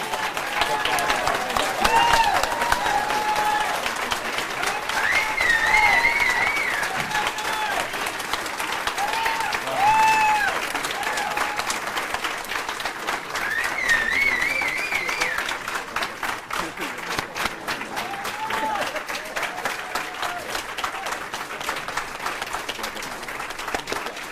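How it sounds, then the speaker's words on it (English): An audience at a congressional district event gives a sustained round of applause, dense clapping that carries on for over twenty seconds with scattered cheers and whoops rising above it. "So I'd like to ask the audience to just really give a round of applause"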